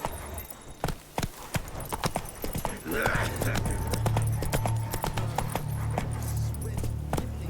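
Hooves of the horse Roach clatter in a quick galloping rhythm in the video game The Witcher 3, with tack jingling and a low rumble beneath, while a voice speaks briefly.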